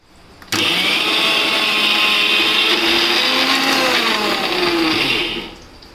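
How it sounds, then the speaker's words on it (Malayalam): An electric mixer grinder kicks on abruptly, then whirs loud and close with a steady high-pitched motor whine that wavers slightly as it grinds, before winding down near the end; no voices. "അരകല്ലൊന്നും ഇല്ലാത്തതുകൊണ്ട് ഞാൻ മിക്സിയിലിട്ടാണ് അടിക്കുന്നത്"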